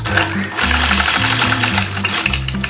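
A sewing machine stitches across a quilt block, running loud and close with a fast, steady mechanical chatter and brief speed changes, with no talking.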